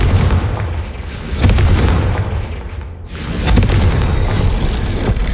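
A Confringo blasting spell goes off in the Hogwarts Legacy video game, producing heavy booming explosions with a loud blast near the middle and another toward the end over a rumbling battle bed.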